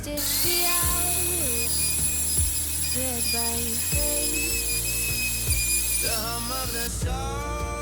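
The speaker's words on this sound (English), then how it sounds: "We're gonna use this 1/2-inch router, rounded edge, to make this so it slopes down and it goes round." A 1/2-inch round-over router bit rounds the edge of birch plywood for a work table, a continuous high, whining motor tone with shifting pitch and slight dips as the cut progresses.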